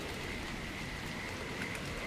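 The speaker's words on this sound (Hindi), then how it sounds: "बादलों की गर्जना और बारिश की छींटों की आवाज में" Rain falls in a dense, even hiss, a steady wash of drops with no pauses, sitting at a moderate distance and carrying no voices.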